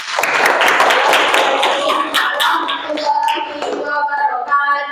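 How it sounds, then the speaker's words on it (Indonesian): A classroom group of students gives clapping applause after their presentation, a close burst of many hands clapping that thins out toward the end, with a few voices mixed in. "Kasih aplaus untuk kelompok 1"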